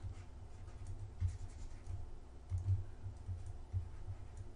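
A stylus writes on a tablet during a maths explanation, making faint, uneven tapping and scratching strokes close by over a low background hum.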